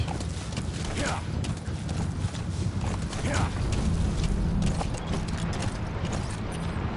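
D-Horse in Metal Gear Solid V trotting with rhythmic hoof clip-clops over a dense, noisy game soundscape with mechanical clatter, continuous and fairly loud throughout, with talk mixed in.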